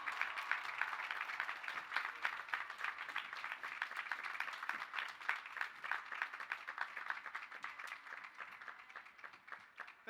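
Sustained applause for a speaker at the Lehman College 2019 graduation ceremony: a steady, dense wash of many hands clapping that fills the whole stretch at an even, fairly close level.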